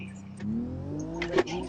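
A car engine revs in a video game, a mid-pitched rising drone that climbs in pitch across the clip, heard under a voice talking.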